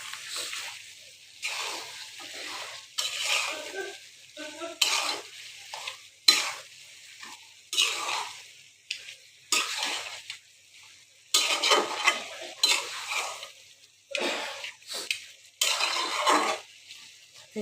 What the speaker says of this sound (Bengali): আমি খাসির মাংসটাকে ভালো করে কষিয়ে নিয়ে তারপর আমি আলুটাকে দিব